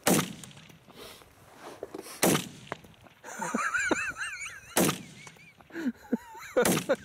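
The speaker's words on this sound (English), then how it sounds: "You should probably shoot it." Rifle shots fired at a squirrel ring out as several sharp, loud cracks spaced a second or two apart, with birdsong warbling in the background between them.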